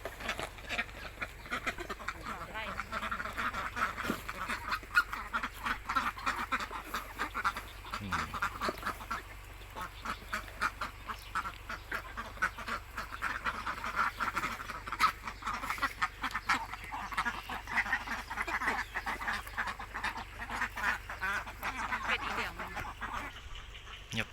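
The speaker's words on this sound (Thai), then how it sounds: "น้องเป็ด อีเหลียงต่อครับนี่ เป็ดกากีไม่ค่อยคุ้นเท่าไหร่นะครับ" A flock of Yi Liang egg-laying ducks quacks almost nonstop, with dense overlapping calls that stay loud and close throughout and no talk over them.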